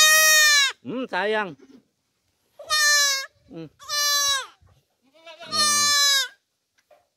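Young goats bleating loudly and close while being given vitamins, several wavering cries in a row, with a person speaking softly between them.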